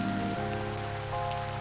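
Rain falls in the farming video game Pumpkin Days as a steady soft patter, with faint game music tones underneath.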